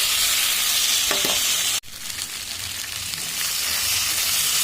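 A paste of ginger, cumin, green chili and two dried chilies frying and being stirred in a hot pan, loud dense sizzling with a brief cut partway, then continuing hiss.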